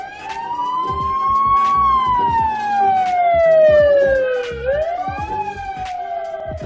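An ambulance siren wails, rising and falling slowly, loud and close, over low traffic rumble.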